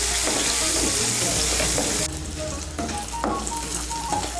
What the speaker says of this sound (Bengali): নুন আর হলুদের গুঁড়োটাকে মিশিয়ে নিয়ে আলুটাকেও লাল করে ভেজে নেব।